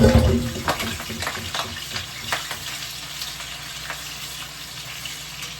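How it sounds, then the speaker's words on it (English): Seasoned chicken pieces fry in a pan with a steady, loud crackling sizzle, an initial burst of spattering settling into continuous bubbling hiss with occasional pops, no voices over it. "I'm gonna fry it up here a little bit."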